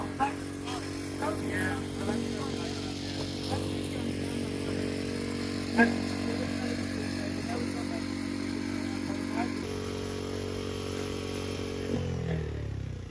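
A thunderstorm generator device runs with a continuous buzzing, engine-like drone and rattle, steady and fairly close, with occasional knocks and a change in tone near the end as it winds down; voices murmur faintly underneath.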